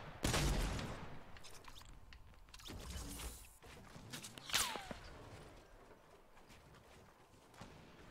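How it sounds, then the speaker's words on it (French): Scattered Fortnite gunfire, a sharp loud burst up front followed by sporadic, fainter shots and clatter at varying distances across several seconds, with a whistling sweep midway. "Ça tire dans tous les sens là."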